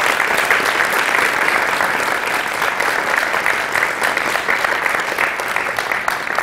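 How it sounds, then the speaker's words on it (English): A large audience gives a big, sustained round of applause for the students who organized a ghazal evening at Vanderbilt. Dense, loud clapping stays steady and unbroken the whole time, with no talk over it. "ladies and gentlemen, a very big round of applause for the students who organized this"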